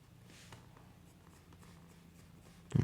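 A pencil draws a half-line on paper for a geometry construction, giving a faint, soft scratching stroke under quiet room tone, with a brief louder knock at the very end.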